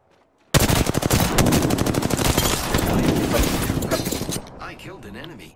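Rapid automatic gunfire rattles in the video game PROJECT*, a loud sustained burst of close shots that starts abruptly and runs for about four seconds before cutting out, followed by a short spoken line.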